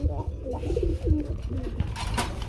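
Gorra pigeons coo in low, throaty, rolling calls close by, several phrases in a row, with some background noise and a brief sharp sound near the end.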